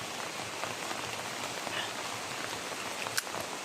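Steady rain pattering on a surface outdoors, a dense continuous hiss with scattered individual drops and one brief sharper tap near the end; no voices.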